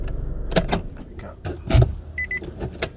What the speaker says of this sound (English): Let me just park the car.